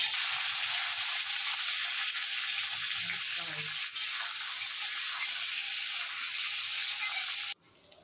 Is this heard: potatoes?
yes